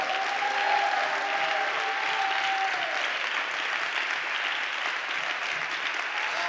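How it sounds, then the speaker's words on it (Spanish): Church congregation at a Pentecostal-style service gives a strong, sustained round of applause, steady dense clapping filling the room at an even loudness throughout, with a faint voice briefly audible early on. "de un fuerte aplauso al Señor."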